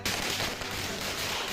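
Firecrackers set off by political supporters celebrating a minister's appointment in Yeola, Maharashtra, heard as a continuous dense crackling barrage at moderate distance, without any speech.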